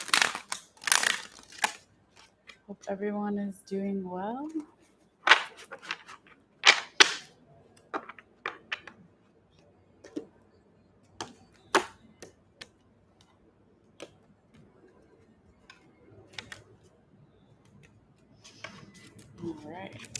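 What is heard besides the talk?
shuffling tarot cards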